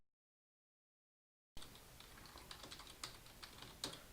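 Keys clatter on a computer keyboard as an email address is entered into a website sign-up form, a steady run of light, close clicks with a few sharper taps, after a second and a half of silence.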